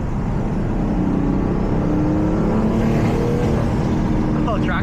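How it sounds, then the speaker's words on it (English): A single-turbo BMW F80 M3 with a T51R turbo conversion pulls hard, its engine roar loud and continuous with a rising whirring spool layered over the drone. A voice can be heard under the engine. "Listen to that spool."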